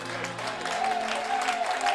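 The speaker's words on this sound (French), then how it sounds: "Donnons une acclamation au Seigneur" A church congregation applauds in a steady, dense wash of clapping, with a voice calling out above the crowd.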